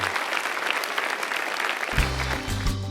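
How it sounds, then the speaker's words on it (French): A church congregation claps together in steady, dense applause during a French-language worship service, and a low organ or keyboard chord enters near the end beneath the clapping. "Applaudissons le Seigneur"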